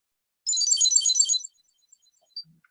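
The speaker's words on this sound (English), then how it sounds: "Here you have ring, and your keychain is ringing." Smart keychain tracker ringing after being triggered from a phone app: a single bright electronic chirping tone lasting about a second, clear and close, followed by a faint blip, with no talking.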